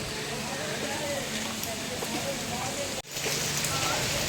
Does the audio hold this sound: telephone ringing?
no